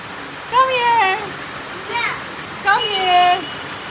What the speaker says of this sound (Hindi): बाहर जो हो रही है ना मज़ेदार सी बारिशें।